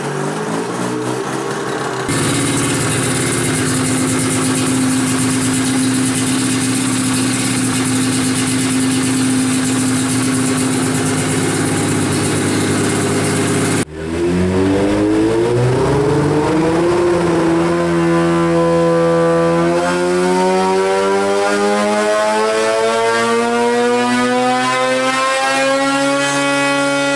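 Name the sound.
Polaris IQR 800 engine running up on a dyno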